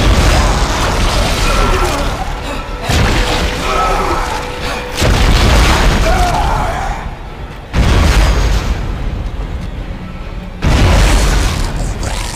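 Force Gun in the survival horror game Dead Space fired four times, each shot a loud, deep booming burst of energy that sustains for a couple of seconds before cutting off, alone without talk.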